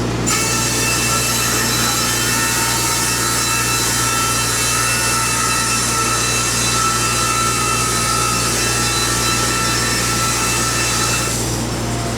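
A sawmill blade cuts green hemlock siding from a clamped flitch, making a loud, steady, continuous rasping drone that holds for the whole stretch and eases slightly at the very end.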